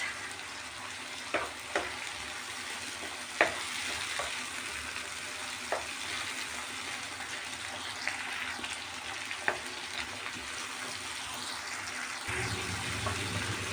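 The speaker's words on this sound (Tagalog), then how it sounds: "Halu-haluin lang natin para magpantay talaga yung luto." Tomatoes for beef picadillo sizzle steadily in a pan as they are stirred and pressed, with occasional sharp utensil taps against the cookware, fairly quiet and close.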